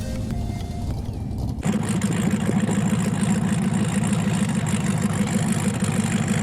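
A turbocharged LS-swapped Fox body car sits at a drag strip, its engine idling loud and close with a steady low rumble that jumps louder after a second and a half, then holds a thick even drone.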